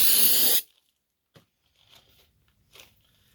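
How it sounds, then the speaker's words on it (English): Brake cleaner hissing from an aerosol can onto the flat, sanded surface of a 1985 Chevy 350 boat engine, one loud close burst of about half a second, then near silence with faint handling sounds. "Little brake cleaner,"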